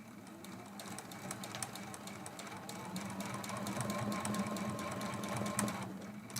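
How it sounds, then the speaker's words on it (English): A sewing machine runs steadily, stitching quilt sashing on a block for a quilt-as-you-go project, a continuous close mechanical whir with rapid needle ticks that swells slightly toward the end, with no talk over it. "And we're sewing this one."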